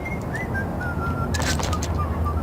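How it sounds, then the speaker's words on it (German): A person whistles short rising tones in the video game Max Payne, faint and repeated over a steady low background rumble. "Jetzt pfeift einer."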